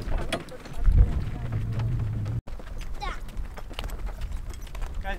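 Donkey hooves clopping along at a steady walking pace outdoors while pulling a wagon, with wind buffeting the microphone and a person talking over the top.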